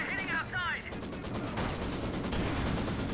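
Artillery and gunfire in a Company of Heroes 2 battle keep up a steady rattle of shots and thuds, with a brief whistling tone near the start.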